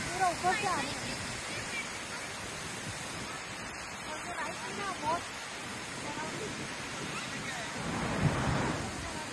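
Broad, continuous rushing roar of a mountain waterfall in Borjomi, Georgia, fairly loud and steady, with a voice speaking over it at moments.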